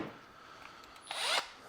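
A power drill spins a cheap drill brush for cleaning fabric with a detailing guard, a short loud whirring burst rising late after a quiet lead-in.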